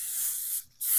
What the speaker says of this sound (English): I'm gonna spray pan my cookie sheet.